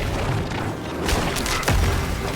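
A booming explosion in the game Diablo IV, played as a necromancer inside a Horadric vault, with a couple of low thuds layered over game ambience and no voices.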